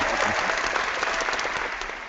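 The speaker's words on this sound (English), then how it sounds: "You guys deserve that round of applause." A short burst of crowd applause on a gaming podcast, many hands clapping densely and evenly at moderate loudness, tapering slightly toward the end.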